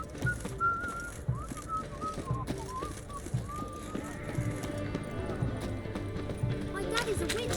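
A horse pulls a wagon in The Witcher 3 game: steady clip-clop of hooves with wheel rumble, a whinny and whistling over it, under background talk.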